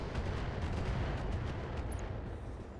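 Mech weapons in BattleTech pound a target with a heavy, rumbling volley of blasts that stays loud throughout and thins slightly at the end.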